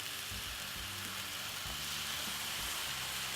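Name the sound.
cornmeal and coconut milk cooking in pot on stove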